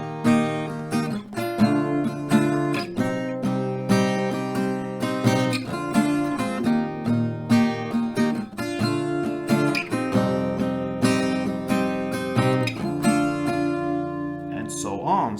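Acoustic guitar strummed through the chord progression of a song, steady rhythmic strums ringing close and loud, played alone without any voice.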